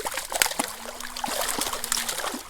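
A small mountain creek holding native cutthroat trout trickles and burbles steadily nearby, a soft continuous flow with light splashy detail and no talking.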